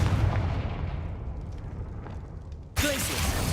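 A Confringo fire spell goes off in Hogwarts Legacy: a booming, explosive burst with a low rumble, followed near the end by a sudden bright crackling blast that stays loud, like fiery game combat.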